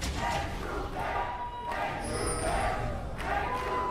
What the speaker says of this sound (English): We know where the crowd's allegiances lie, Crepo.